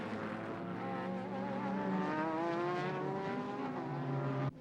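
Honda NSX race cars compete in a 1998 JGTC race, their engines howling loudly and continuously with rising and falling pitch as the cars pass. A sharp cutoff ends it, and no one speaks.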